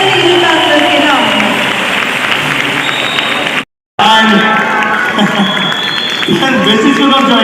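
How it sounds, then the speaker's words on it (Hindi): A large audience at an award function in Kolkata bursts into sustained, loud applause and cheering for ambassadors, a dense wash of clapping that cuts out briefly before resuming. "एक बार जोरदार तालियां हो जाए हमारे सभी वेस्टिज एम्बेसडर्स के नाम।"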